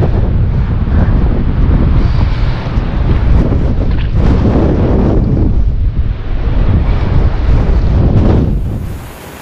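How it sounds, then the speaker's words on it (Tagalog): Loud, steady wind roaring and buffeting against the microphone, with rumbling gusts throughout that fade slightly at the end. "sobrang lakas ng hangin"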